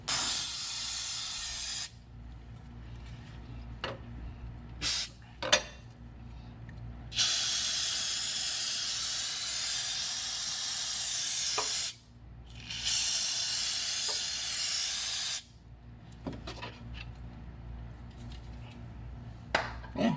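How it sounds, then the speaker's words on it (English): Several long hissing bursts from an aerosol brake cleaner spray can on a Nissan R50 Pathfinder front differential, each lasting a few seconds, separated by short pauses with faint background noise. "Spray this down, brake clean."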